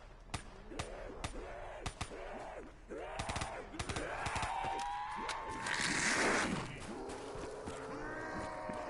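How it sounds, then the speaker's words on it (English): Submachine gun in Call of Duty Black Ops 3 zombies mode, short spaced shots and small bursts cracking out under game sounds and a whooshing, rising tone in the middle, fairly quiet overall. "I love the submachine guns in this game because the rate of fire is slow enough that you can actually like control them."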